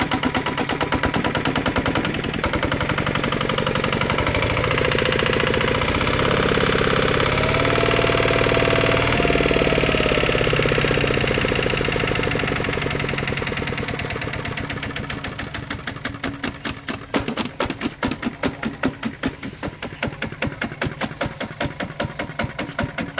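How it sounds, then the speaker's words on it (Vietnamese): A small engine, running after being started, chugs away steadily with a rough, knocking beat that turns choppier and more percussive toward the end, loud and close with no voices. "bác anh quay cái cho cô bác anh chị em nghe tiếng máy nó coi"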